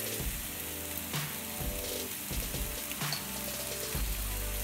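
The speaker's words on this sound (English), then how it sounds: "And we'll try to fry this one until it becomes light golden color." Cumin seeds fry in hot oil with a steady, close sizzle that runs through the whole stretch. Occasional stirring clicks sound over it, and no one speaks.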